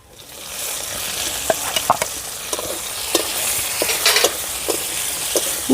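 Slit green chillies dropped into hot oil with lightly crushed garlic for a rustic jute-leaf and prawn curry set up a steady, close sizzle, with occasional spatula scrapes and taps against the pan and no talking.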